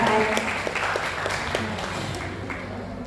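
Audience at a school puberty parenting session applauding after a doctor's talk, moderate clapping that starts strong and gradually thins out, with scattered louder claps and a murmur of voices.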